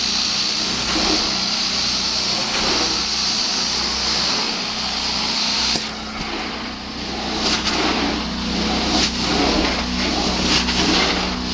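A truck-mounted Prowler 13 hp carpet cleaner runs with a loud, steady engine drone and high vacuum whine as the wand does continuous cleaning strokes, with the roar shifting slightly midway through.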